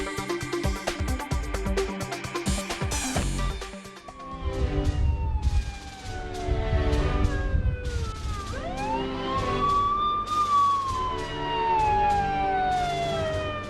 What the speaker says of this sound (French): c'est Thomas Durier qui a eu la chance de monter à bord et de lancer la sirène des pompiers